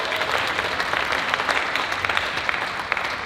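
An audience at a roast breaks into dense, sustained clapping that fills the room evenly for a few seconds, with no voices over it.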